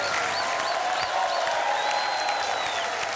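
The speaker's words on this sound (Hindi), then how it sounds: "तालियां, कमल की तालियां" Studio audience on the Hindi TV game show Dus Ka Dum breaks into sustained applause, dense and steady throughout, with some cheering mixed in and faint whistle-like tones above it.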